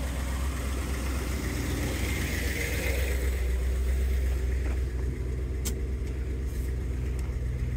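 A 1963 Ford Thunderbird Coupe's 390 engine with Tri-Power idles steadily with a constant low rumble, close by and unbroken throughout, with a few faint clicks near the end.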